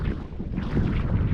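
Amihan northeast monsoon wind blows steadily at sea, a constant broadband roar that thickens slightly toward the end, with buffeting gusts close to the microphone and no voices.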